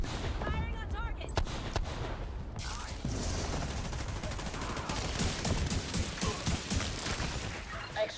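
Bursts of automatic and single gunfire in The Division 2: Warlords of New York, loud and close, with rapid volleys and sharp cracks packed together, while a voice speaks briefly over the opening of the firefight.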